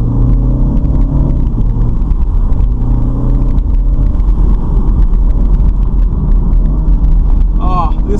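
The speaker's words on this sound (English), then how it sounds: "I'm really leaning on the gearbox to get those last minute downshifts in" A BMW Z4's engine drones loudly and steadily, its pitch stepping up and down as it revs through automatic gearbox downshifts, with rumbling road noise underneath.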